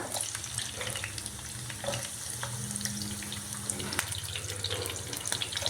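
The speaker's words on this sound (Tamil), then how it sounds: "அடுப்பில் ஒரு பேன் வச்சு எண்ணெய் ஊற்றிருக்கிறேன் எண்ணெய் காஞ்சிருச்சு இப்போ முதல்ல வந்து பெரிய வெங்காயம் கொஞ்சம் பெட்டல்ஸ் எடுத்து வச்சுருக்கிறேன் அதை முதல்ல போட்டுறேன்" Onion petals and capsicum sizzling in hot oil in a pan on the stove, a steady close frying hiss with a few light clinks, no talking.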